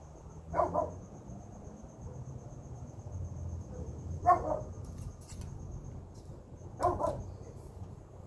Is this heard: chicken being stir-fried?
no